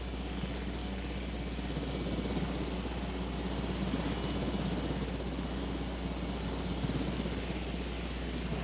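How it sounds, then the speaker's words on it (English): Continuous whirring drone of a helicopter being piloted in Jurassic World Evolution, steady and unbroken with a low rumbling base throughout. "we're gonna pilot the heli"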